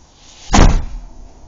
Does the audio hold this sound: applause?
no